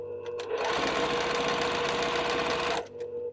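A sewing machine runs steadily for about two seconds, stitching together the seams of quilt block pieces, with a dense mechanical whir that starts and stops cleanly near the microphone.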